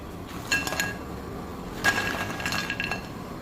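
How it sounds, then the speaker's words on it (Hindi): Crispy fried potato pakoras are jostled in a metal strainer, giving a few light, brittle clinks and crackles in short bursts, close up with no talking. "तो आप इनकी आवाज़ भी सुनिए कि कितने क्रिस्पी हैं।"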